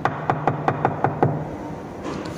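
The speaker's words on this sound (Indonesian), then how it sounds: "Suara ketukan pintu membuat wanita itu menggerutu." A rapid series of about seven sharp knocks on a door, close and evenly spaced, then fading into quiet room noise.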